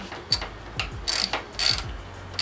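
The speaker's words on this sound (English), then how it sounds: "I'm just going to loosen those bolts just a little bit" Ratchet clicking in short bursts while loosening the bolts on a motorcycle brake master cylinder and lever assembly, close and fairly quiet, with several separate runs of fast pawl ticks and no talking.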